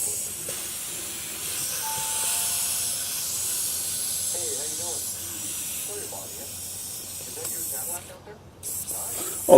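Air hisses steadily from a leaking tire valve stem on a lawn tractor, a soft continuous close-up hiss that carries across the clip, with a voice speaking over part of it and a brief rustle at the end.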